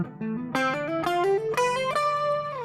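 Electric guitar with a distorted, effected tone playing a fast rising scale run, several legato notes sounding for each single pick stroke, steady and clean in the foreground with no talking.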